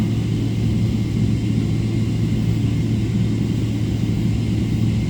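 Deep, steady rumble of an airliner's engines rolling along a runway at Ho Chi Minh City airport, heard from inside the cabin as a loud, constant low drone with a tonal hum and no talk.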